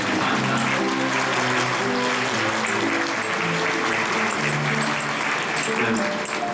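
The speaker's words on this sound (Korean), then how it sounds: "여러분 큰 박수로" Wedding guests at a five-star hotel wedding at the Four Seasons Seoul give dense, sustained applause. Live music plays softly underneath the clapping throughout.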